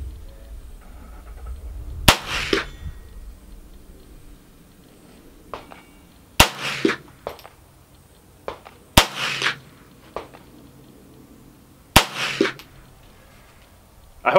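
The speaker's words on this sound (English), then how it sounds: "I'm going to shoot a couple because I think that was a hit." Four sharp .22LR rifle shots fired at a target 100 yards away, each a loud crack with a short echoing tail, spaced a few seconds apart with quiet between.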